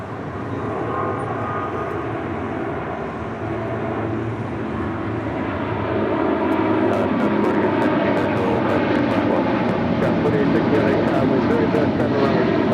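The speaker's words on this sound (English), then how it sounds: "All right, that 777 heading to Newark, flight 3023 and a 777-200." A 23-year-old Boeing 777-200 bound for Newark roars down runway 25 right at LAX on takeoff, a loud sustained jet engine rumble that builds and intensifies, with a voice talking over it.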